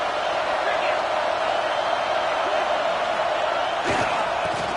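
A stadium crowd in an NCAA football video game sends up a continuous loud roar throughout, with a brief sharp thud near the end.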